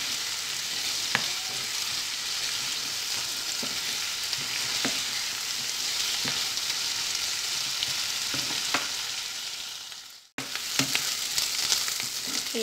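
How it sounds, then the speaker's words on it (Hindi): Chopped onions frying in a pan for an Indian paneer sabzi, a steady close sizzle with periodic clicks and scrapes of stirring, briefly cutting out before resuming. "प्याज को हम ट्रांसपेरेंट होने तक पकाएंगे"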